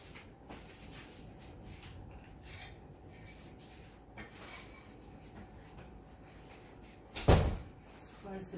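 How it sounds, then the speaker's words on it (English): A door closes with a single solid thud near the end of a workshop scene where a tile artist has been painting, following several seconds of quiet rubbing and handling noises. "Just close the door."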